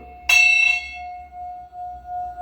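A Nepalese nine-metal vastu bell weighing eight kilos is struck once, with a quick second touch, then rings on in a long, steady, humming tone that slowly fades.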